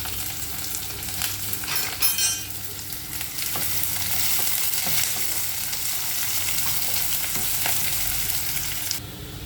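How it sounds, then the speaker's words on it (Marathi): Chopped onion goes into hot oil in a pan just after mustard seeds, sizzling and crackling steadily while being stirred, with scattered pops and spatters for a potato and capsicum dish. "नंतर आपल्याला त्यामध्ये लगेच कांदा टाकायचा आहे कांदा चांगला फ्राय होऊन द्यायचा"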